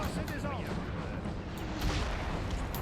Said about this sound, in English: Taking fire from their artillery.